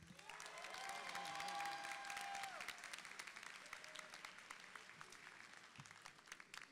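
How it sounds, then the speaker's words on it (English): Applause at a school graduation ceremony, many hands clapping in a hall, swelling early and then gradually thinning out, with a faint whistle or cheer rising above the crowd. "Please give a warm round of applause to Mr. Lee"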